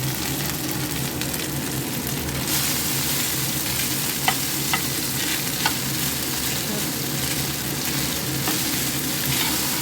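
Boiled Gobindo Bhog rice being stirred for fried rice in a pan, a steady close sizzle with soft scraping strokes and a few sharp clicks of the utensil against the pan, no voices.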